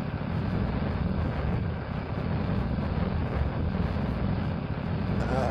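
An aircraft in Kerbal Space Program throttles up and takes off, with a continuous loud engine roar and windy rush that holds steady throughout.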